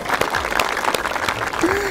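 An audience at a Hazara cultural gathering claps briefly in a short burst, with voices over the applause.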